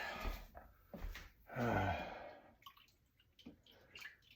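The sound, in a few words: rinsing a fork with raw egg under running water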